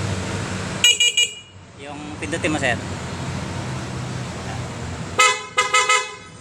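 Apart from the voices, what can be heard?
stock motorcycle horn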